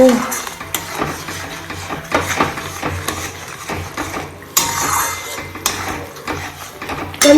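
Spices with Kashmiri red chili powder frying for potato curry, metal spoon scraping and clanking against the pot over a soft sizzle, loud and close with irregular bursts.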